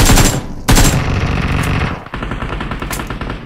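Gunfire in the BGMI video game: loud, close rapid-fire bursts, a first burst, a brief gap, then longer sustained automatic volleys that ease slightly toward the end, with no voices.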